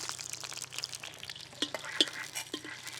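Sliced onions, bay leaf and dried red chillies hit hot oil for kadai chicken, giving a soft crackling sizzle with a few sharp spatula clicks and scrapes, close but fairly quiet, over a few seconds.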